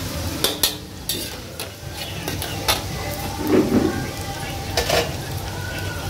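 Sliced garlic added to hot oil for soya chilli and fried rice, giving a close crackling sizzle with stirring clatter and several sharp scraping knocks, with a little speech in the background.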